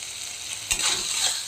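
Taro leaves frying in a pan, a close, continuous sizzle with a short scraping stir partway through, with no talking.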